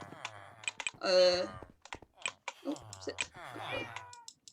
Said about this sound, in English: Now I've got a calico cat, which is the one we currently just tamed